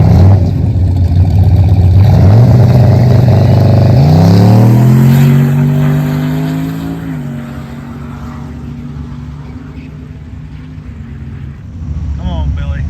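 An old Chevy truck at a drag strip roars loudly, its engine revving and climbing in pitch over several seconds, then settling to a lower rumble as the sound fades with distance.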